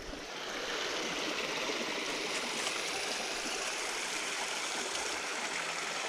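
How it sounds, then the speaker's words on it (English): A small creek flows in a steady, even rush of water, close and continuous, with no voices. "if you find a little creek like this somewhere in public"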